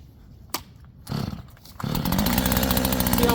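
A DeWalt 60V top-handle 14-inch battery chainsaw starts after a few clicks and handling noises, then runs with a loud, steady buzzing whine as it begins cutting into very old steel.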